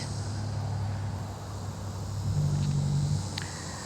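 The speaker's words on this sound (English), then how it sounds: "I apologize if you can hear the traffic in the background" Steady low rumble of road traffic in the background outdoors, a constant distant drone with a slight swell midway, no talking.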